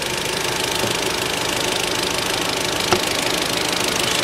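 An Audi TT Black Edition S-Line with a 2.0 TFSI four-cylinder engine runs at a steady idle, a close, even, slightly knocking hum with one small tick partway through and no voices.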